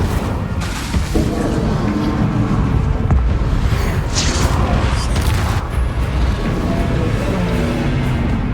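An Incendio fire spell blasts in Hogwarts Legacy, a loud, close burst of booming, crackling impact amid ongoing combat noise, with no talk.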